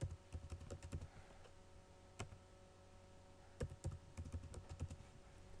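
Clicks of a computer keyboard as a password is typed, quiet clusters of rapid keystrokes separated by pauses, close and alone.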